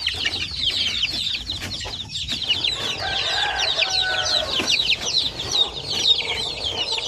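Native chickens cluck and chatter nearby in a busy farmyard, a dense layer of overlapping calls with occasional louder squawks running throughout.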